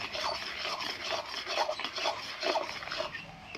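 Olive pickle masala being stirred in a pan, a steady scraping and rubbing of spoon against metal repeating in an even rhythm, close and moderately loud with no voices.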